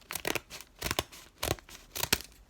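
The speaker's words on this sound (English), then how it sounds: "just cut right up the spine" Scissors cut up the spine of a magazine in four distinct close crunching snips, each a short burst of paper cutting separated by brief pauses.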